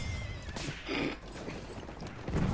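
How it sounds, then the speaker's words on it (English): A horse neighs and whinnies in Battlefield 1, a loud call that rises in the middle of busy game audio, with hoof clip-clop and battlefield noise around it. "that was a horse"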